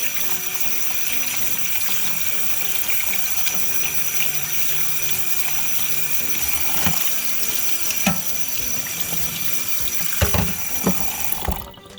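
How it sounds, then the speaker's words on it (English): Great northern beans rinsed under a running kitchen tap, a steady loud rush of water filling the sink throughout, with a few clunks and splashes near the end. "And by rinsing the beans, you're taking off some of the starch."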